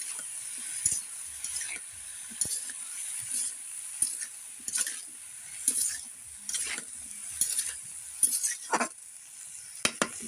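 A pan fry of dried fish, eggplant and potato stirred repeatedly, rhythmic scrapes and clinks of a spatula against the pan over a soft sizzle, close and without speech.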